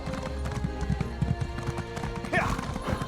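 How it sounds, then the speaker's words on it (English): Steady clip-clop of horse hooves at a riding pace in the video game The Elder Scrolls Online: Necrom, with rhythmic hoofbeats under game ambience and a brief whinny near the end. "let's just get on the horse and go"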